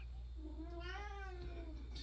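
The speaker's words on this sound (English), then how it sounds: "Cats are fighting in the background." Cats fighting somewhere in a home, a single drawn-out yowling caterwaul that rises and bends in pitch, heard faint and distant over a steady background hum.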